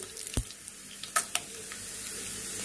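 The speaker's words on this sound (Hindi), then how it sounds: "और अच्छे से फ्राई करेंगे लाल मिर्ची को भी।" Broken red chillies frying in hot oil with garlic, a faint soft sizzle with a few small pops and clinks of stirring, close and quiet.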